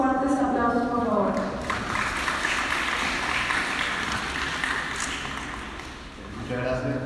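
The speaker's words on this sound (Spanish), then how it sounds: "Lo recibimos con fuertes aplausos, por favor." Lecture-hall audience applauding to welcome a medical lecturer, a dense, sustained patter of clapping that swells and then tapers off, with a voice heard briefly at the start and again at the end.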